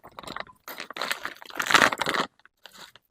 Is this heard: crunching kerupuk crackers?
yes